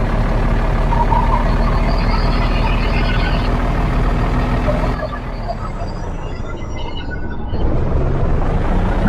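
A truck in the driving game Truck Masters India rumbles with a loud, steady engine drone and road noise, easing briefly before picking up again, with faint higher tones over it.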